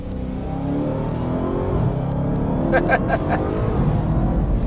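A 2020 Dodge Charger SRT Hellcat Widebody sedan engine revs hard and climbs in pitch, with quick gear shifts breaking the rise, loud and close, while a voice talks over it.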